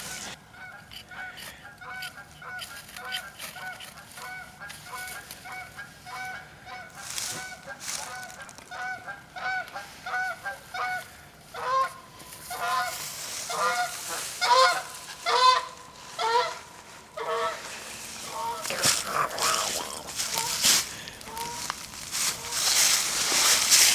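Geese honk repeatedly outdoors, a flock calling in irregular overlapping bursts that grow louder and denser over time, with rustling movement nearby.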